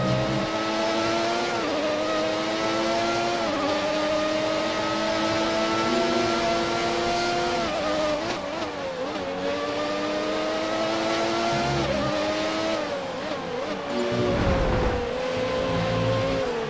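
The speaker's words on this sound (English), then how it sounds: "The McLaren sound to the Ferrari sound, comparing their two cars over the 1990 season" McLaren and Ferrari Formula 1 cars from the 1990 season in the F1 2019 racing game, high-pitched engines screaming loud and close, revving up through gears with sharp downshifts and continuous wailing tone, no talk.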